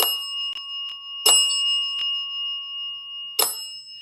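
A bell rings during a paranormal investigation in a reputedly haunted house, with three sharp, close dings at the start, near 1.3 seconds and near 3.4 seconds, each followed by a long, sustained ringing tone in an otherwise quiet room.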